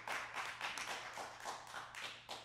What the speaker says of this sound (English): somebody clap your hands right now if you receive that word